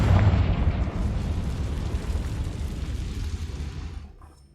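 A Confringo fire spell in Hogwarts Legacy bursts in a loud explosion with a heavy boom at the start, then a rumbling roar that slowly fades out.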